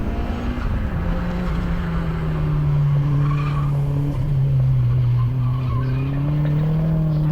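A Ford Escort ZVH Turbo race car drives hard through a timed course, its engine holding a steady loud drone with rising and falling revs and some tyre noise, continuous and close.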